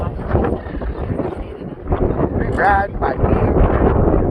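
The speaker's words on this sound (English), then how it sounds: "It's a little windy." Steady wind buffeting a microphone outdoors near the ocean at a beach resort, a continuous broadband rush under a voice talking throughout.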